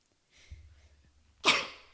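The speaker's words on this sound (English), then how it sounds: "I feel like I have to sneeze." A single sharp sneeze bursts out near the end after a faint breathy intake, close and fairly loud, with no talking.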